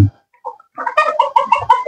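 Chickens on a farm in Chi Linh, Hai Duong, Vietnam cluck in a coop, with a few soft calls and then a rapid run of loud, close clucks and squawks.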